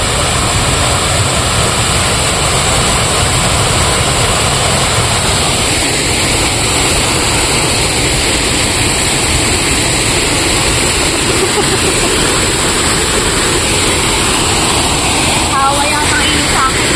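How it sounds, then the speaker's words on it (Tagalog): Steady rushing river water flows throughout, a broad continuous wash of noise that sounds close and fairly loud, with voices talking over it now and then. "Humina na ang tubig, ano?"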